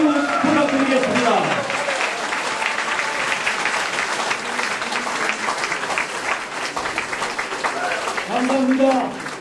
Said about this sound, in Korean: 여러분 박수 크게 한번 보내주세요.